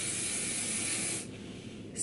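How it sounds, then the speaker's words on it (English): Hairspray hissing onto hair as a Navy boot camp bun is slicked down, a steady close aerosol spray that cuts off partway through, with a brief burst returning at the end. "spray the shit out of your hair"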